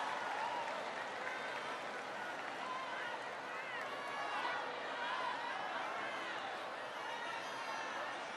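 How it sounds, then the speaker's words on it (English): A large university crowd applauds and cheers at a political speech in Buffalo, a broad sustained wash of clapping with scattered shouts, fairly distant. "Give him a big round of applause."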